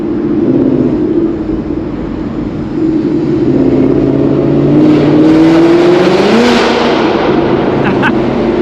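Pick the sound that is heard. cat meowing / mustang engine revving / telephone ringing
mustang engine revving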